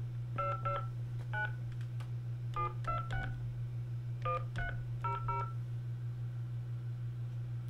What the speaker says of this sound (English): let me dial in and see if we can get these people, our updaters on the phone